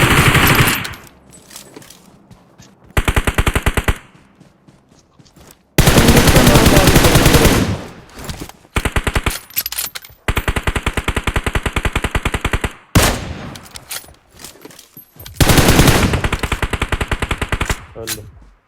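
Bursts of automatic gunfire from the PUBG Mobile battle royale game, loud and close, coming in several long sustained volleys with brief pauses between them.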